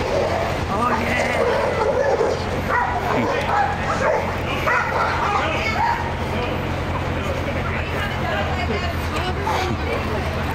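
Several dogs bark and yip repeatedly nearby over a low engine hum and background chatter.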